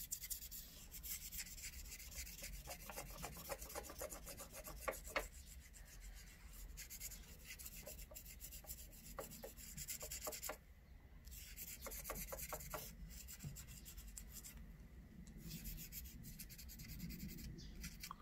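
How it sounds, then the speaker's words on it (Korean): Soft, close scratchy rubbing of 800-grit sandpaper on a surface, steady repeated strokes with brief pauses, quiet and without talk. "800방 정도로 사포질해서 이제 면을 깨끗하게 정리해 주면 됩니다"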